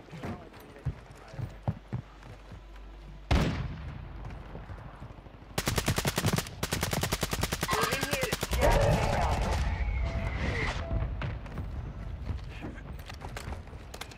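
Gunfire in a first-person shooter video game: a few isolated shots, then a long stretch of rapid automatic fire with heavy, sustained bursts that stay loud and close until the end.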